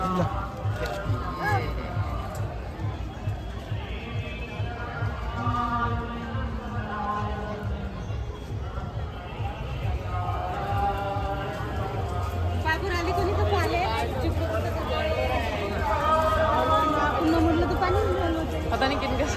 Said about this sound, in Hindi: देखें क्या देखने के लिए भीड़ लगी है।